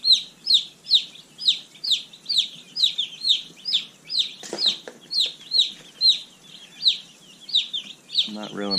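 Baby chicks newly arrived by mail peep steadily in their brooder, a dense, high, rhythmic chorus of chirps close by, with a brief muffled handling noise near the end.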